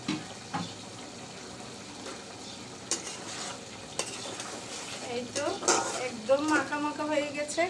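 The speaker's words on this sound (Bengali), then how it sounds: "আমি আবার ট্যাংরা মাছ দিয়ে একটু কষিয়ে নিব" A spatula scrapes and stirs taro corms with tengra fish in a hot pan for a village-style curry, with a soft sizzle underneath. Irregular clinks of metal on the pan come close up, and a voice speaks near the end.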